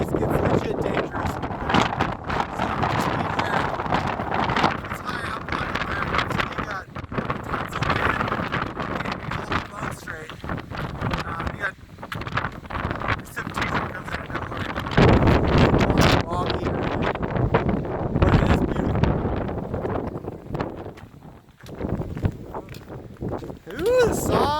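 Strong wind buffets the microphone in exposed high-country terrain at Dolly Sods, with roaring, uneven gusts of 50 to 60 mph under continuous speech.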